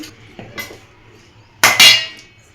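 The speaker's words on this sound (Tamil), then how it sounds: "கடாய் வச்சுக்கோம் காயட்டும்" A metal kadai is set down on a stove. A couple of light knocks come first, then a loud, close metallic clank that rings briefly before fading, with no voices.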